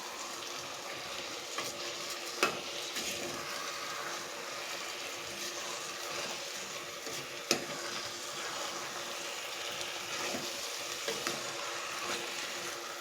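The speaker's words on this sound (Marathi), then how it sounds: "आपल्याला तांदूळ इकडे थोडेसे तेलामध्ये भाजून घ्यायचे, म्हणजे ते एकमेकाला चिकटणार नाहीत." Rice is roasted in a little oil over a high flame and stirred now and then. It gives a soft, continuous sizzle with occasional faint scrapes and clicks, heard at a modest distance.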